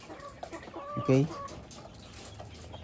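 Chickens, Rhode Island Red, Barred Plymouth Rock and D102/D109 F1 hybrid birds, cluck steadily inside a farm chicken house, with one louder burst of clucking in the middle, over a low hum and a brief spoken word.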